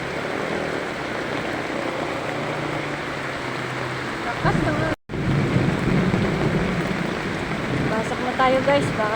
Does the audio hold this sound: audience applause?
no